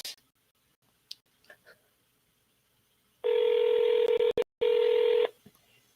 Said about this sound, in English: So let's try to give this lady a call again and see where we go.